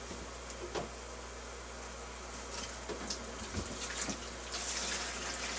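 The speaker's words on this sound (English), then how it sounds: "siphon all that water right out of there" Water siphons out of a hydroponic tank with a steady trickling, gurgling flow, close and continuous with a few small splashes and drips.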